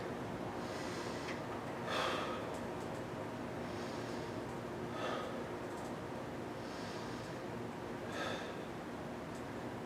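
Slow deep breathing during a jujitsu class, inhaling through the nose and exhaling through the mouth, a few soft airy breaths spaced a couple of seconds apart over a steady background hiss.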